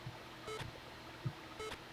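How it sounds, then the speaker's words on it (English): Faint, short electronic beeps from a game on a TI-99/4A home computer recur twice at a regular interval, quiet and thin over a low background hiss, with soft low thumps between them. "Why is that beep happening?"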